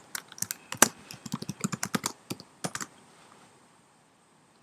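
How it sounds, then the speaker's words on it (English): A password goes in on a computer keyboard as a quick, uneven run of close key taps and clicks, about two and a half seconds long, then the room falls quiet. "type in your password here too"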